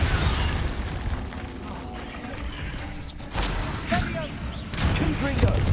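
Confringo fire spell blasts in Hogwarts Legacy, with booming bursts and mechanical crackles over a busy game mix of combat effects, rising in loudness toward the end amid repeated spell casting.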